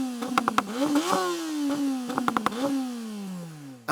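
Tuned Golf GTI hatchbacks, a 500 hp MK8 Clubsport 45 and a 500 hp MK7 Edition 40, rev their engines in a loud, close pair of rising blips, each with sharp crackling pops, then a sustained drone that slowly falls away.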